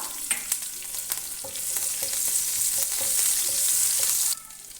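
Cumin seeds and chopped green chillies frying in hot oil for an egg masala gravy, a close, bright, continuous sizzle that grows louder and then drops suddenly near the end, with faint clinks under it.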